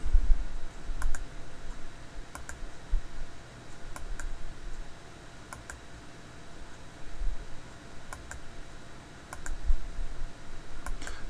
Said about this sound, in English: So I'm clicking, clicking, clicking, clicking.